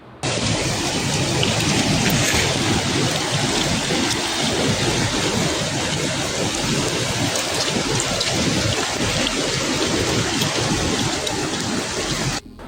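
Heavy rain pours down loudly and without pause, a dense steady hiss with a low rumbling undertone of thunder throughout, during a storm in Uttarakhand.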